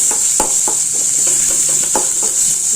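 Ginger garlic paste sautéing in a pan, a steady close sizzle broken by several sharp scraping and stirring strokes of a utensil against the metal.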